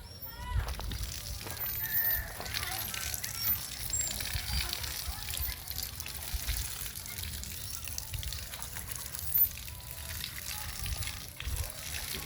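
Water flowing strongly outdoors near a simple house makes a steady, broad rushing and sloshing wash that lasts throughout, moderately close, with faint background sounds.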